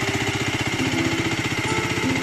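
Race GSR 125 motorcycle engine running steadily close by, a loud continuous low throb with a fast regular firing pulse and no talk over it.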